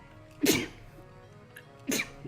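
Two sharp sneezes about a second and a half apart, each a sudden loud burst that fades quickly, with quiet in between.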